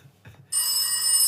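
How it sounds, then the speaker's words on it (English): A telephone rings, a loud, bright electronic trill starting abruptly and continuing steadily, close by after a few faint knocks. "Oh, there's the phone."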